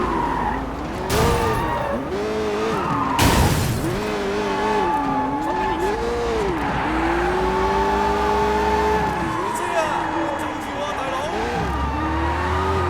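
Car in the video game Sleeping Dogs skidding with squealing tires and a revving engine whose pitch rises and falls, punctuated by two sharp loud impacts early on.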